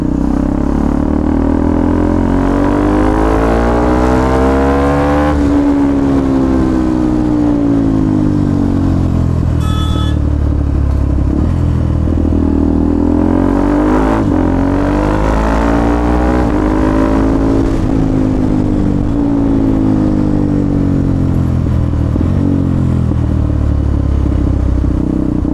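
A KTM Duke 390 gen 3 motorcycle engine revs steadily while riding through the city, its pitch rising and falling in repeated sweeps, loud and close throughout with no talk.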